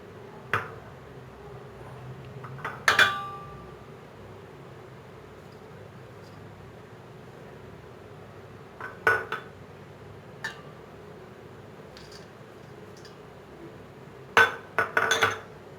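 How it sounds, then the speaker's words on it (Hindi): A spoon mixes beef shami kabab ingredients, including chopped green chillies and eggs, in a bowl and makes a few sharp clinks against it, scattered with long quiet gaps and a quick cluster near the end. "अब मैं इन तमाम अज्जा को अच्छी तरह से मिक्स कर लूँगी।"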